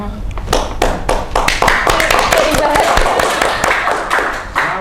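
An audience at a campus podcast recording claps, a crowded stream of sharp hand slaps rising and then thinning out, loud and close, with people talking through it.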